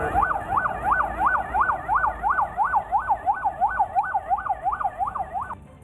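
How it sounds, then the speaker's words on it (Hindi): Police vehicle sirens wail through city streets, a loud, fast rising-and-falling electronic tone repeating steadily for several seconds with no talk over it before cutting off near the end. "शहर का कोना कोना पुलिस की गाड़ियों के सायरन से गूंजता सुनाई दिया।"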